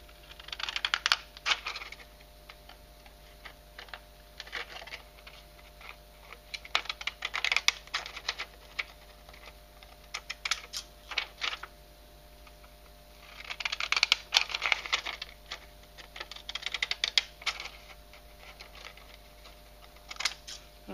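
Pinking shears trimming a paper card for a christening announcement, giving soft bursts of crisp snipping and crunching cuts in irregular clusters, close and fairly quiet.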